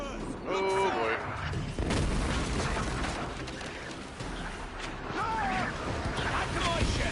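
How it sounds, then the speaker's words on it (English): Mortar fire during a naval battle in Assassin's Creed IV: Black Flag, heavy booming blasts and rumble mixed with shouting voices and crying gulls over the sea. "Mortars!"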